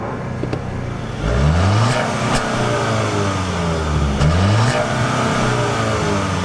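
A 2.0L turbo SUV engine revs up through the gears, from a 2018 Audi Q7, Acura MDX or VW Atlas drag race, two rising pulls of acceleration, loud and close, with a steady droning hum between them.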